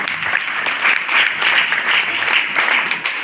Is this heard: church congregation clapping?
yes